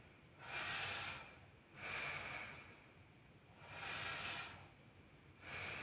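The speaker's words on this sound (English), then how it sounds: "Mr. Patrick, can you inhale and exhale for me?" A patient breathes slowly and deeply during a chest and lung examination, with four airy breaths in a regular rhythm, soft and close, with no talking.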